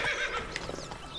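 A horse in The Witcher 3 whinnies close and loud, with a few clopping hoof falls trailing after the neigh in a short burst.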